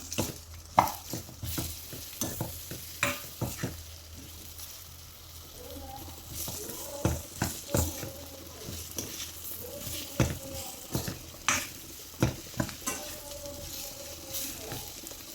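Chopped gooseberries for amla pickle get stirred in a pan over a soft sizzle. Repeated spoon scrapes and knocks come in an uneven rhythm, fairly close, with the frying hiss low underneath.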